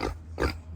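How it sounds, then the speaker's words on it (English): Pigs in a homestead pen, including young boars, give two soft grunting bursts, one near the start and a stronger one just under half a second later, over a low steady hum. "And these are our other 2 male pigs."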